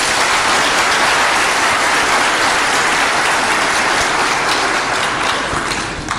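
Loud, sustained applause from a large audience welcoming presidential candidate Hakainde Hichilema of the United Party for National Development at a Zambian campaign event, a dense steady roar of clapping lasting throughout.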